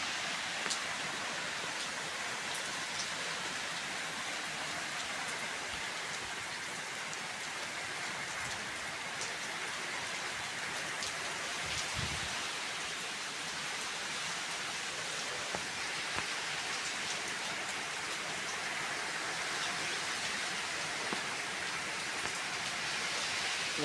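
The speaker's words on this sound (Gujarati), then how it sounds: "વરસાદ ચાલુ થઈ ગયો." A monsoon downpour keeps falling heavily for nearly half a minute, a constant, even wash of rain noise with a faint low rumble near the middle and no voices.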